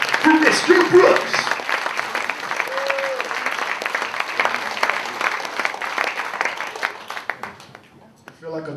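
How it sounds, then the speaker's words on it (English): Sustained audience applause and cheering fill a comedy club as a comedian is introduced for a holiday-season set, a dense steady roar of clapping that thins out toward the end. "Everybody, big round of applause for Mr. Bruse."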